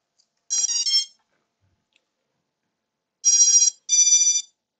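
Three short electronic beep sequences from a drone's ESCs powering up, clear and close: one burst, a pause of a couple of seconds, then two more in quick succession, in silence.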